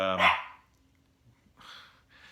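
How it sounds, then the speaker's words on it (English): A dog lets out one loud, sharp bark close by, followed after a pause by a couple of softer, noisy rustling bursts. "it's really tough to do this video now because Joan is barking"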